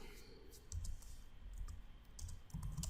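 Computer keyboard keys clicking as Python code is typed, soft and fairly faint, in short irregular bursts of taps with no talking.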